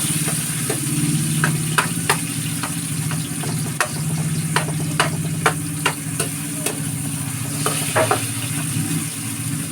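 Ginger, onion and garlic sauté in a pan for a tomato-braised fish dish. A steady sizzle runs under a low hum, punctuated by repeated sharp clicks and scrapes of a utensil stirring against the pan.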